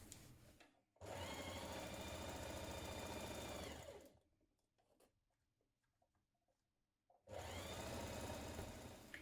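A sewing machine stitches a 1 cm sleeve seam on a shift dress, running in one steady three-second burst, then stopping for a quiet pause with small handling noises, then starting again for a second run.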